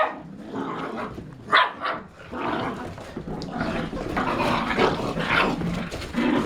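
Golden retriever puppies about nine and a half weeks old play-fight up close, yipping, barking and growling in a busy, overlapping scuffle that keeps going throughout.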